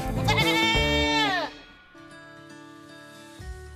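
A pet goat gives a loud, wavering bleat that fades into quieter background sound.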